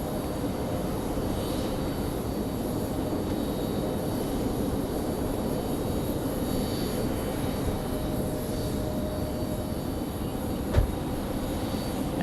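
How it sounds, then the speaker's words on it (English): An Embraer E-175 jet pushes back at Raleigh-Durham airport, its engines giving a steady, distant whine and rumble over constant airfield ambience, with a brief sharp knock near the end. "E-175 pushing back down here."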